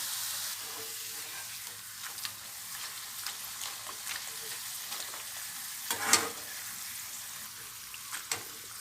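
Tapioca chips deep-frying in oil crackle with a soft continuous sizzle, dotted with sharper pops and occasional louder bursts, near and fairly quiet.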